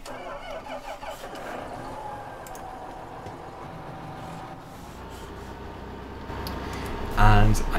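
A John Deere tractor engine cranks and catches in Farming Simulator 2015, settling into a steady mid-pitched idle with a louder rev burst near the end, with a voice talking over the start.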